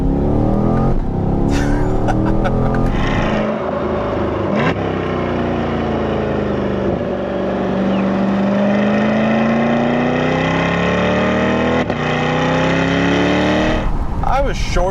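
A C8 Corvette engine revs and climbs through the gears on a freeway, the pitch rising and dropping with each short shift, loud and close, with a few words spoken over it.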